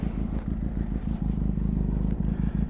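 A 500cc adventure motorcycle being ridden, its low engine thrum steady and fairly close with slight clatter over a short stretch, no voices.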